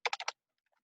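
Four quick keystrokes tapped on a computer keyboard, close and crisp, evenly spaced, then near silence with a few faint clicks.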